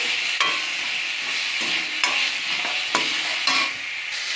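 Sour mango pieces with salt and turmeric are stir-fried in a pan, with a spatula scraping close and loud about four times over a constant sizzle and no voices.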